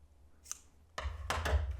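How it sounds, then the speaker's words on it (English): Scissors cutting crochet yarn after finishing a coaster, one faint snip followed by a few quick, close cutting sounds. "You can cut the yarn"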